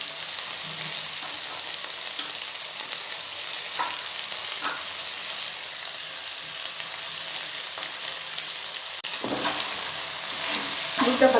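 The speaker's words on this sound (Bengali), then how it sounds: "দুধটা ভালো করে মিশিয়ে নিচ্ছি।" Milk stirred into frying chicken nihari gives a steady, close hiss of sizzling with soft spoon scrapes, swelling into a louder bubbling crackle near the end.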